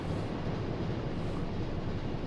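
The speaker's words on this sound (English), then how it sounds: "The sound of the engine is" A submarine engine in the UBOAT naval video game drones as a dense, low, steady rumble with broadband noise, constant and loud throughout with no talk.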